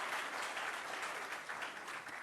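Audience applause at a Jharkhand government ceremony for appointment letters, as a block coordinator walks up to the stage. Dense, even clapping from a large crowd continues steadily throughout, with no voices over it.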